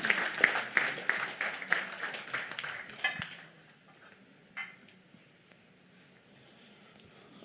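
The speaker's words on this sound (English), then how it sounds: "She deserves a better round of applause, please." Audience applause at a consumer protection stakeholder summit, a dense crackle of many hands clapping for about three seconds before fading into a quiet room with a few faint sounds.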